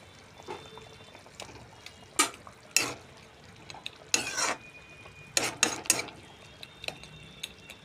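Rui fish stirred in a frying pan: scattered scraping and clinking strokes of a utensil against the pan, with a few louder bursts and a low steady background, close by and without talk.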